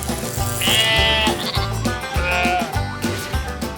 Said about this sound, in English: Wool comes from sheep.